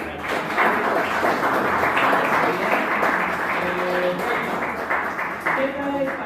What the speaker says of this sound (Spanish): un aplauso para los